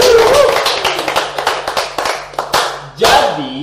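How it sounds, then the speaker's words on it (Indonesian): A few people clap hands close by in a small room, quick uneven claps at the start of a casual show, with voices and a sharp vocal exclamation mixed in. "Tepuk tangan dulu dong"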